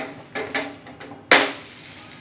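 An egg roll for a french fries roll cooks in a pan on a low flame: a few soft utensil scrapes, then a sudden sizzle that flares up and slowly fades.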